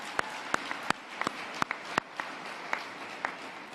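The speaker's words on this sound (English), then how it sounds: "Let's give them another round of applause" Scattered, sparse handclaps from an audience at an awards ceremony, a dozen or so distinct claps spaced irregularly, moderately close and fairly quiet, with no voices.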